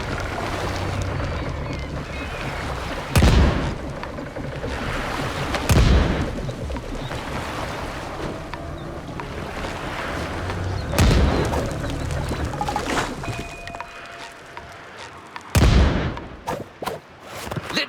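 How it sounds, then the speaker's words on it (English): Pirate cannons firing in the SpongeBob SquarePants: The Cosmic Shake video game, several loud booming blasts spaced a few seconds apart over a roaring windy, watery background, with a quick burst of shots near the end. "Let me show you how a real pirate uses these cannons."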